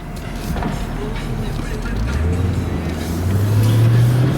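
A 2005 Mercedes-Benz SL500 AMG Sport roadster pulling away, a loud, steady engine drone that rises in pitch as it accelerates, heard from inside the car.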